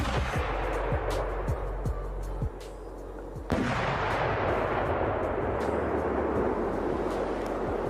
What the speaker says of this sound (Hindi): इस रॉकेट बॉम्ब से इतना बड़ा धमाका होता है कि उसकी चिंगारियां नीचे आने पर भी जल रही होती है